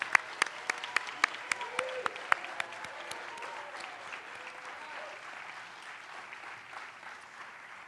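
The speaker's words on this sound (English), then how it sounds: "And one more round of applause for all of our winners." A crowd at an awards ceremony applauds the winners, with a few sharp claps standing out at first before the clapping settles into a steady, dense wash that slowly fades.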